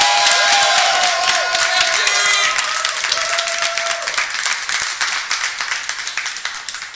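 Staff applauding at the Geek Faëries V4.1 opening speech, a lively burst of many hands clapping with a few tonal whistles or cheers over it at first, gradually thinning and fading toward the end.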